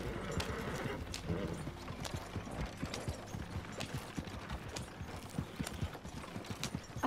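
Horse hooves clip-clop rapidly in steady galloping rhythm in a video game, close and continuous for the whole stretch, with occasional faint mechanical clicks behind.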